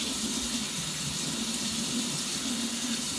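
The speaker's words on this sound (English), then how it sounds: "which we're gonna rinse this really quickly" Tap water running steadily into a sink while something is rinsed quickly, a close, even splashing stream.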